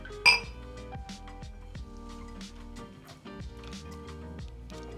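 Whiskey glasses clink together in a toast during a Glenmorangie tasting. One bright glass chink comes early, followed by ringing tones and light clatters of glassware, close up.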